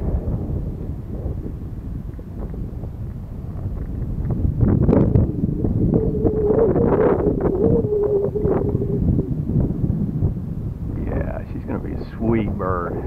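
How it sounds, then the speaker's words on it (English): Gusty wind buffets the microphone with a low, rumbling roar that swells and fades, with a few bird-like chirps near the end. "It's pretty windy down here."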